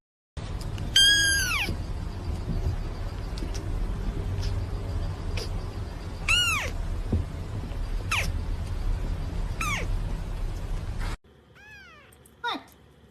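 A cat meows several times in sharp, rising-falling calls spaced across a steady low background hum, with a final nearer meow after the background drops away.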